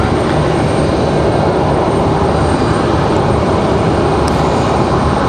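Aircraft noise at Raleigh-Durham International Airport, a loud steady broadband engine roar that holds constant throughout, without pauses or talk.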